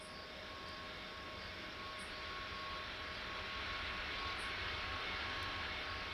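A four-engine airliner landing in an air traffic control tower simulator at London Gatwick, a steady, faint engine drone that grows slightly louder, heard alone without talk.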